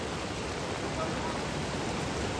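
Floodwater surges after heavy rain in a village in the Konkan region, a steady, dense roar and rush of flowing water with no letup, loud and close.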